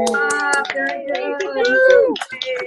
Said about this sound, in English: Let's give RD a hand and a cheer.